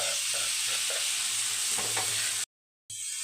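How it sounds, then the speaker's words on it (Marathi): Onion and tomato fry in a pan with steady broadband sizzle and soft stirring taps, close and continuous, then an abrupt brief dropout to silence before the sizzle resumes. "तर टोमॅटो देखील आपल्याला मऊ होईपर्यंत छान असं भाजून घ्यायचं आहे"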